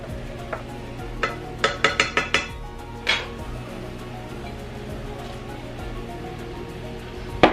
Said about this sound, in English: I'm gonna go ahead and throw the shrimp in there with the peppers.